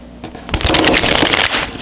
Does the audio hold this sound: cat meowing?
no